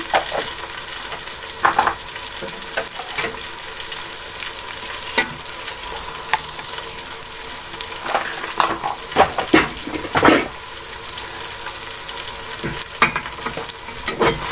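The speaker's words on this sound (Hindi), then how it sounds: "अब इस मसाले को मिक्स कर लेंगे।" Ground spice masala with red chili and turmeric sizzles in hot oil while a spoon stirs and scrapes the pan for aloo chicken, a continuous close frying hiss broken by repeated scraping clicks.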